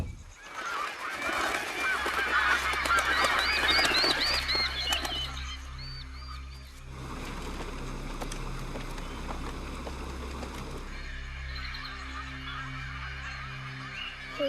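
Distressed birds honking and calling loudly in a dense, agitated chorus with wing flaps, later thinning to scattered cries over a low steady hum.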